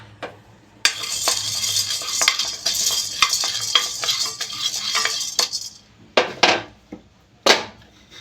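Roasted gram being stirred lightly in a pan: a run of dry, gritty scrapes and rattles of spatula against metal, dense at first, then thinning into a few separate sharp scrapes near the end.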